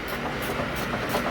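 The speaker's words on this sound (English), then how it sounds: "that's the sound of a compressor that is about to blow up any day now" Continuous rattling drone of a failing air compressor with a hissy edge and rhythmic knocking, steady and close, no talking.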